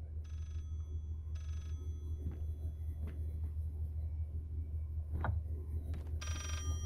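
A telephone in Layers of Fear gives short bursts of ringing separated by long gaps, over a constant low rumble.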